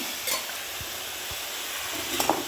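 Pieces of chicken go into a hot frying pan for a home-style chicken dish, giving a faint, low sizzle with a couple of soft stirring scrapes, and no voice over it.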